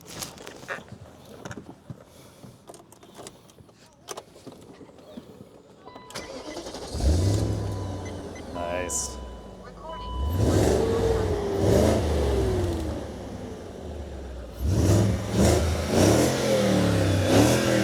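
Faint clicks and a brief spoken word, then the engine of a 2000 BMW 740i E38 with a manual swap cranks and catches, followed by several loud revs rising and falling up close.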